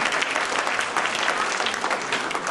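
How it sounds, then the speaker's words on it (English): Dense, steady clapping from an audience gathered to hear about students' achievements, a full round of applause sustained throughout at a fairly strong level with no talking over it. "So this is a big round of applause for what we are doing."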